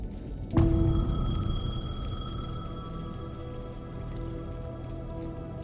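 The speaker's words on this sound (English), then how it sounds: "The payphone was ringing." A payphone in the video game Alan Wake, a sudden ringing tone with sustained metallic overtones that starts sharply and rings on steadily over an eerie ambient bed, fairly loud and with no talk.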